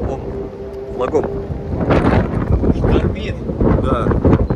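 Strong stormy wind buffets the microphone at the seashore at Kanyakumari, India, a loud continuous roar with rushing gusts and low rumble, while voices talk faintly underneath.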